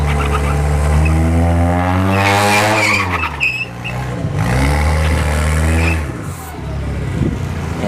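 A Parker Performance EcoBoost Mustang at a drag strip roars loud and close, its engine climbing steeply through rising revs with a brief tire chirp, then a shift and another strong pull.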